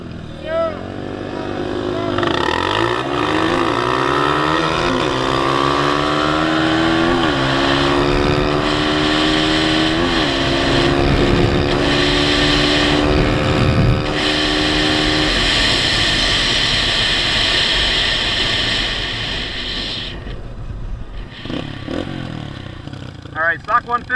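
Several Honda CRF150F big bore dirt bikes, stock and bored-out, rev hard from a standing race start, engines climbing through gears together, loud and close, with voices shouting over them near the end.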